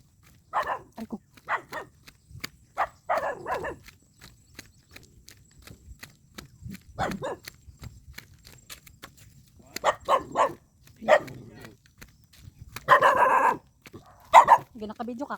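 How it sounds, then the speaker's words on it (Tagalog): A dog barks several times in short bursts at a market stall in the Philippines, along with clip-clop hoof sounds and nearby footsteps, while people talk in between. "may naririnig akong aso"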